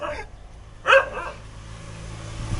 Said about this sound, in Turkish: Markete köpek bakıyor arkadaşlar.